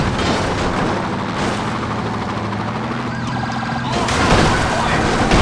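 Airstrike explosions in the airplane video game Get Away 2 rumble as a dense, continuous roar of blasts and booming noise filling the whole stretch, with siren-like wailing mixed in.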